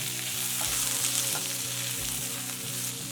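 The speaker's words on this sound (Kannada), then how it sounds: "ಟೊಮೆಟೊ ಎಲ್ಲ ಮೆತ್ತಗಾಗುವವರೆಗೂ ಫ್ರೈ ಮಾಡ್ಕೊಳ್ಳೋಣ." Chopped tomatoes frying with onions in a pan for a hotel-style capsicum curry, a loud continuous sizzle with repeated scraping strokes of a spoon stirring, no talking.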